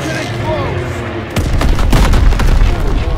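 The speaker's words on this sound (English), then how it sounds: "Throw the grenade!" A grenade blast in a WW2 video game's campaign, a sudden deep boom followed by rumbling gunfire and loud battle noise, close and dense.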